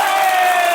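Singles in a live audience shouting and cheering loudly, a short burst of whooping crowd voices, close and energetic.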